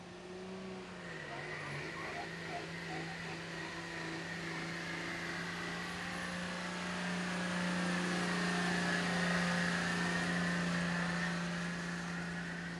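A 2003 Dodge truck pulls a sled at a county fair truck pull in Ohio, its engine droning steadily under load and swelling slightly as the pull goes on, heard from a distance with crowd ambience.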